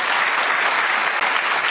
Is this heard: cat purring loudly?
no